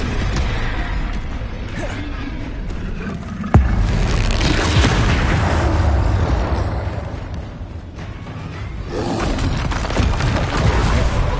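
The Confringo explosive spell goes off in Hogwarts Legacy as a loud, deep booming blast with one sharp impact, set over dense, rumbling game combat noise that carries on throughout.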